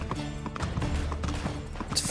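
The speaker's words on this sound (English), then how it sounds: "Oh, I get to ride a horse!" Hooves clip-clop in quick rhythm as a horse is ridden in the Uncharted 3 video game, close and fairly busy against the game's background sounds, with no talking.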